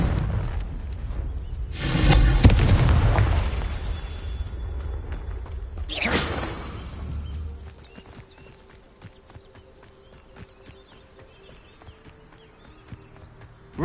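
Confringo blasting spell explosions in Hogwarts Legacy, the video game, burst out as two loud booming blasts a few seconds apart, followed by quieter scattered crackles and clicks as the noise fades.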